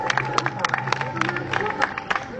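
Crowd at an outdoor street dance show at Alexanderplatz in Berlin giving scattered applause, irregular claps and hubbub under lively voices, moderately close.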